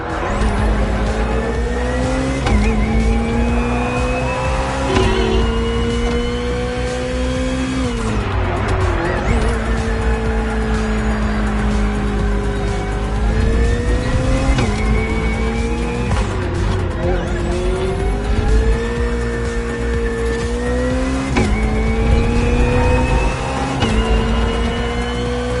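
A hybrid V8 race car roars through a race in The Crew Motorfest on PS5, its loud engine note climbing and dropping through gear shifts, with tire squeal and skidding mixed into the continuous drive.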